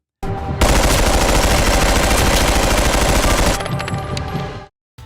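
Loud, sustained bursts of automatic gunfire from Road to Vostok, with rapid overlapping shots for about four seconds before cutting off abruptly; no talk.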